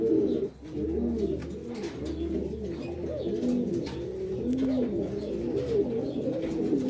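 Racing pigeons in a loft cooing, with low, rolling, repeated coos overlapping close by over a steady background.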